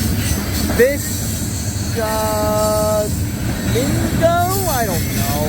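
A CSX coal train rolls past at night on the Old Main Line on a humid June evening, a constant rumble of cars with drawn-out wheel squeals, while people talk nearby.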